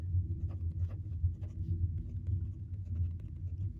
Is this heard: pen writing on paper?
yes